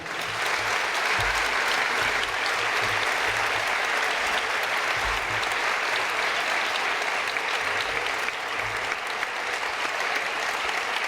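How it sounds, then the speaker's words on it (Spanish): A festival crowd at the Fiestas del Pilar gives loud, sustained applause after jota singing and dancing, dense clapping holding steady throughout without speech. "La verdad que os merecéis un fortísimo aplauso porque ha sido excepcional."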